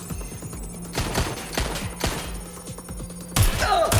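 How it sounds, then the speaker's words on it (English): Gunfire in the video game Watch Dogs: Legion: several sharp shots ring out at intervals over a steady background hum, with a louder burst near the end. "Gunfire!"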